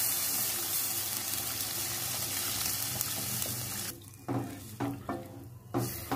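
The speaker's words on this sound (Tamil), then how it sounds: "இப்போ தேவையான அளவு தண்ணி ஊற்றணும்." Rice-washing water poured into egg curry in a pan, a continuous sizzling, splashing rush for several seconds, then a few separate sloshes and splashes as the pouring tapers off.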